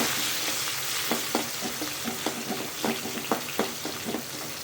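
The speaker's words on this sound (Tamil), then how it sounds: "அப்புறம் நம்ம கட் பண்ணி வச்சுக்க சின்ன வெங்காயம், இதை நல்லா வதக்கி விடுவோம்" Small shallots sauté in oil with fenugreek and cumin for a fish curry, a constant close sizzle broken by a series of sharp spoon taps and scrapes against the pan.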